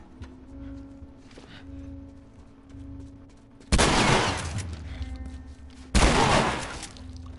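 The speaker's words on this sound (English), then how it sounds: "Shotgun." Two loud, booming shotgun blasts ring out in The Last of Us, the second a couple of seconds after the first, each with a decaying tail over a low game ambience.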